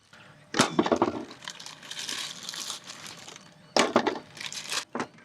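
Ice knocked loose from a container while cooking in a caravan, giving sharp crackling and crunching bursts, a strong cluster early, a noisy rattling middle stretch, then another loud burst and a final short crack.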